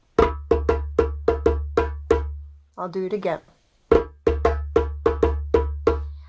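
A drum pattern of sharp, evenly spaced hits plays close up, stops while a voice briefly speaks, then the same rhythm starts again.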